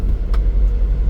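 A Suzuki Carry mini truck engine drones steadily while driving in fifth gear, a constant low rumble with no break.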